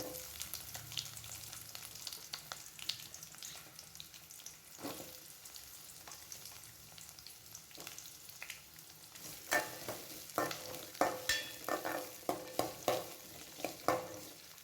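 Chopped onions sizzle in hot oil in a pan for a village-style dried anchovy curry, a steady low fry broken by a run of scraping stirs that grows busier and louder toward the end.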